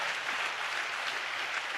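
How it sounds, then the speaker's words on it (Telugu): A church congregation claps in praise: a short burst of dense, even applause from many hands, fairly soft and steady throughout with no voices over it. "చప్పట్లు కొడుతూ దేవునికి స్తోత్రాలు చెప్దాం."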